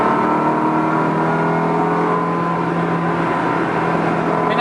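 A Ferrari 360 Modena engine idles with a steady, loud droning hum and its harmonics held fairly constant, with no clear separate throttle blips standing out.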